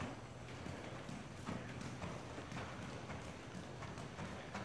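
A horse trotting in a riding session, with a steady two-beat clip-clop of hooves on soft ground, quiet and continuous, captured at some distance without anyone talking.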